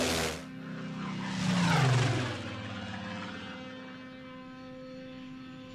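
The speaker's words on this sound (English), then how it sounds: "the transport plane carrying Captain Global and Lisa Hayes approaches the secret headquarters of the United Earth Command" A transport plane flies over the Alaskan wilderness, its engine droning steadily with a rising whoosh as it passes, then settling into a constant hum with no voices.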